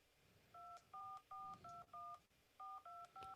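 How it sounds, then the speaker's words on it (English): An iPhone keypad sounds touch-tone beeps during a phone call: eight short, clean tones in a steady rhythm, split into a run of five and a run of three after a brief pause. "And you hear the touch tone too."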